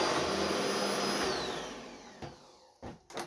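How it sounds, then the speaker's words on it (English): A vacuum cleaner roars loudly while cleaning hair off a Toyota Prius hybrid battery, then winds down as it is switched off, followed by a few knocks and handling thumps. "Let's get the vacuum here."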